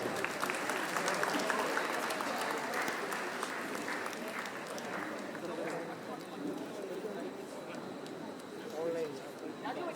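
An audience claps for the Chief Minister as he departs, a steady, continuous patter of hands held at moderate level throughout, with some chatter and movement mixed in.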